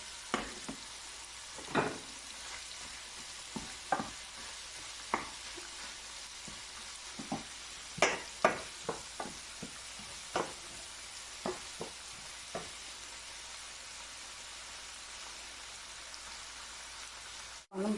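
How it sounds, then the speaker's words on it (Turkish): Chicken breast sautéing on its own in a pan, being stirred as it browns, gives a steady close sizzle throughout. Sharp scraping clicks of the utensil recur every second or so, and there is no talk. "İşte bak ben burada ayrı kavuruyorum. Bu göğsü."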